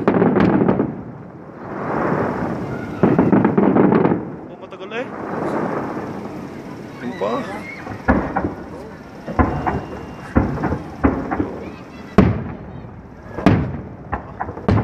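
Firecrackers go off outdoors: several sharp, loud bangs come in an irregular sequence, following stretches of rumbling and crackle, while people talk nearby.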